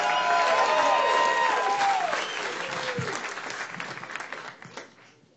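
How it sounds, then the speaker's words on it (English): A comedy club audience breaks into loud, sustained clapping that stays dense and steady, then gradually thins and fades away by the end. "Big round of applause for Steve Beecham."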